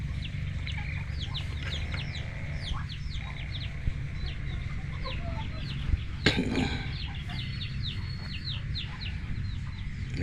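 Chickens cluck in a rural village yard, a steady scatter of clucks and distant calls over a constant low hum, with one louder burst near the middle.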